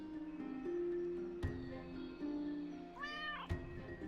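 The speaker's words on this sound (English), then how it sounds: "Sneezy cat." A cat gives two sharp, brief sneezes with a short meow between them, close by over a faint steady hum.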